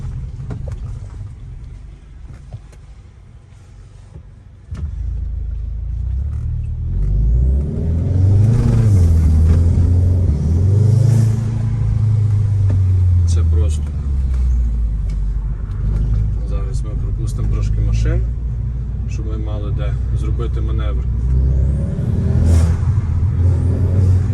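A 300-horsepower Volkswagen Jetta GLI engine idles, then revs up loudly nearby with rumbling surges and sharp exhaust pops, while a person talks over it.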